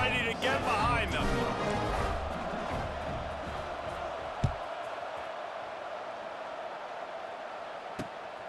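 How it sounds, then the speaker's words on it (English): Steady stadium crowd roar in the college football game EA Sports College Football 26, a broad sustained wash of noise under a commentator's voice, with two sharp thumps partway through. "this crowd now ready to get behind them"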